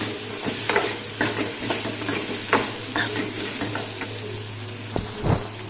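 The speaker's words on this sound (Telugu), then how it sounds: "వంకాయలు వేసుకున్న తర్వాత పసుపు, ఉప్పు వేసుకొని బాగా వేసుకోవాలి వంకాయలని" Brinjal pieces fry in oil with turmeric and salt for a vankaya pachadi, a continuous close sizzle punctuated by repeated spatula scrapes and taps against the pan, with no talking.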